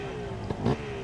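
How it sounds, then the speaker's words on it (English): A two-stroke motorcycle engine at a Harley-Davidson hill climb gives a quick, buzzing rev, a brief high zing rising above a steady engine drone. "Two-stroke zinging."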